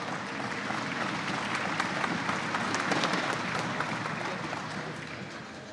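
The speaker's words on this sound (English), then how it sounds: "Let's give these ladies a round of applause." Steady applause from the audience at the youth female open archery finals, the 2025 Lancaster Archery Classic, a sustained even wash of clapping filling the indoor venue for the full stretch without letting up.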